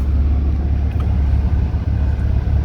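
A 2015 Maserati Ghibli S Q4 AWD sedan with a 3.0-litre twin-turbo V6 idles after a push-button start, giving a deep, steady low rumble close by with no voices.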